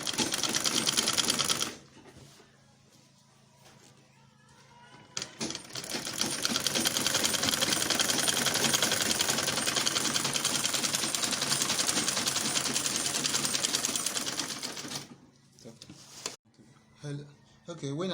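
A sewing machine stitches a shirt with a fast, steady mechanical clatter that runs for about ten seconds after a brief earlier burst. A voice talks at a few points.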